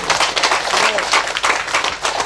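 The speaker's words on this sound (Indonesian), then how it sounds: "mari kita sambut, mari kita tepuk tangan beliau untuk apa yang sampaikan" Applause from an audience at a farewell and welcome gathering of a family association in Sorong, a steady wash of clapping that stays loud and even for a couple of seconds.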